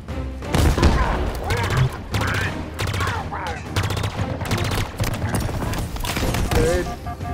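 Gunfire in a Halo game comes as rapid repeated bursts with thumping impacts. It rattles on loud and close through the whole clip, with game sounds and speech mixed in.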